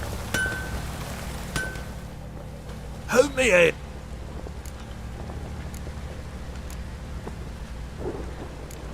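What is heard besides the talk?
heavy rain downpour in video game The Witcher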